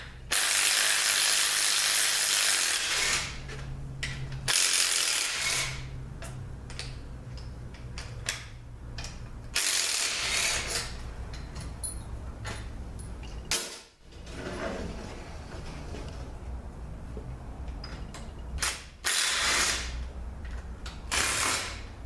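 Ratchet clicking repeatedly as 10 mm bolts come out of the extension housing on a Ford 4R75E transmission with no 3rd gear, in bursts of fast close ratcheting and creaks over a low steady hum.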